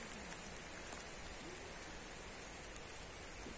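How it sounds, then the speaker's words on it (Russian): Steady rain patters down continuously, a dense even hiss of drops with no voices. "дождик."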